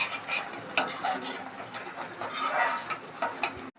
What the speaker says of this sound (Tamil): ஆட் பண்ணி நல்லா மிக்ஸ் பண்ணிவிட்டு திருப்பி மூடி வச்சிடலாம்